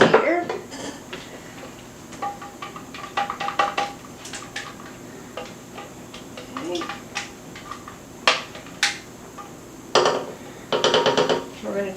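Pots, pans and metal utensils being handled in a home kitchen while making apple cider caramels: irregular clanks, clinks and rattles, some sharp and loud, separated by short quieter gaps.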